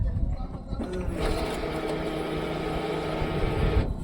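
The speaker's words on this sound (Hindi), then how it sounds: "ये फ्यूल पंप भी आवाज़ करना शुरू कर दी" A steady mechanical whirring hum from the fuel pump of a Tata Ace Gold BS6 petrol mini truck priming at key-on, running close by for about three seconds before cutting off.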